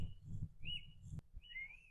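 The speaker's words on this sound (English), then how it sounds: "Is there a bird whistling at me?" Two clear whistled bird chirps, rising and bright, over a low rumble of background noise.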